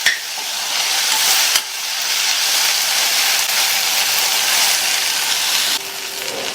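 Okra and peanuts sauté in a pan over a medium flame, giving a steady, close sizzling hiss that runs unbroken throughout, with a brief stirring scrape near the start.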